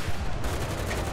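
An M5A1 tank's cannon fires in the video game Enlisted: a single loud, close, booming shot whose rumble and crackle fill the whole moment with no voices.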